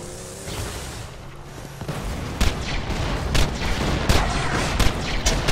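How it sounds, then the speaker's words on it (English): Loud booms and blasts in Borderlands 2 go off in quick succession amid a rumbling, chaotic din, several sharp hits standing out toward the end. "Explosions!"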